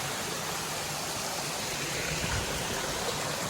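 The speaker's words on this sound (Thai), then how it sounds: "อันนี้ก็พามาสำรวจ น้ำตกแม่ระเมินนะครับ" Broadband rushing water from the second tier of Mae Ramoeng waterfall, a steady, dense roar with no breaks and no voices throughout.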